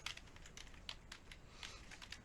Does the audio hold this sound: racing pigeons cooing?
no